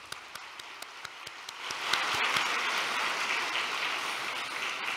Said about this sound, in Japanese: この前に座っている皆様、一度拍手を送りください。